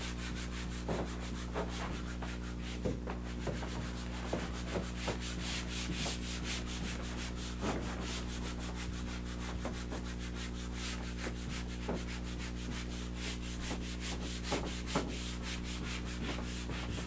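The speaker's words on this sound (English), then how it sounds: "Erasing that well." An eraser rubs writing off a lecture board in repeated short scrubbing strokes, a soft rhythmic rasping that continues steadily over a low background hum, fairly faint and with no talking.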